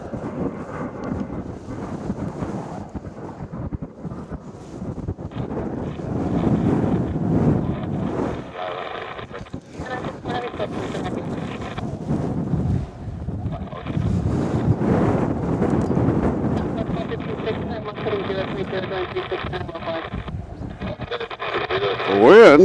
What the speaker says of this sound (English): The wind is actually blowing harder.